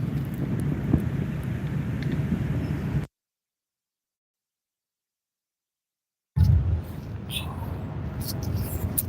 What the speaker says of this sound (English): Sometimes it gets windy out here.